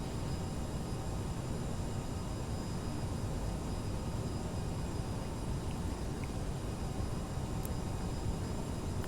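Aerosoft CRJ 700 jet engines spooling at takeoff thrust in Microsoft Flight Simulator 2020, a steady, dense broadband roar with a low rumble that holds constant throughout, with no talking over it.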